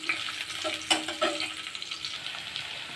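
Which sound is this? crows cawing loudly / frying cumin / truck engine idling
frying cumin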